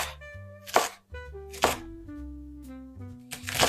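Knife chopping green onions on a cutting board in a home kitchen, three sharp, close chops spaced about a second apart over soft background music.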